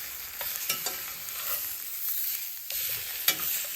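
A ribeye steak sizzles steadily in a pan, broad frying hiss with a few sharp crackles and pops, close and fairly loud, briefly easing before the sizzle surges back; no one talks.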